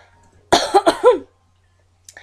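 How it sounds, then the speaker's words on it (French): A burst of several quick, harsh coughs close to the microphone, then silence and a faint short noise near the end. "Vraiment, je tousse vraiment beaucoup"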